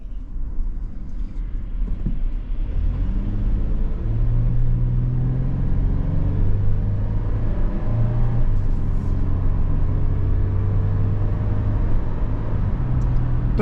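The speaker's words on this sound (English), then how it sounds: "Down the road we go in this 24 4Runner Limited with the 4-wheel drive, and here we go." A 2024 Toyota 4Runner Limited 4x4 drives down the road, heard as a steady low engine and road rumble from inside the cabin, with gentle rises in engine pitch as it gets under way.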